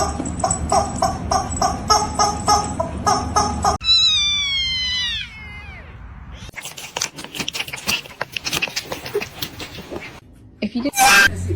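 A cat meows loudly and repeatedly at close range, the cries stretching into drawn-out caterwauling, with bursts of laughter and excited voices mixed in.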